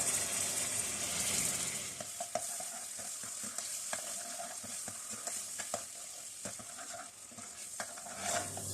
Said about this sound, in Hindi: इसको थोड़ा सा भून लेंगे ऑयल के अंदर